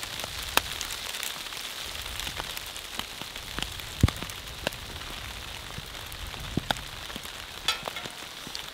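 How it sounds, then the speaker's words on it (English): Rain and hail patter steadily onto a tarp shelter at an early-winter camp, a dense, close hiss broken by occasional sharper drops and taps. "Cold, wet, hail, rain."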